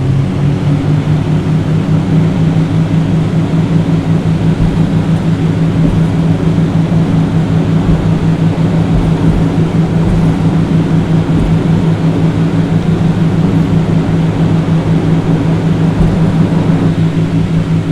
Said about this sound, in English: Slowly push throttles to full. Remember to rotate at 80 knots.